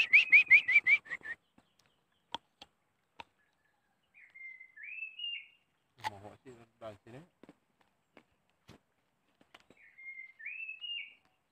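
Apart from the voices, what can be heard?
birds chirping in the village countryside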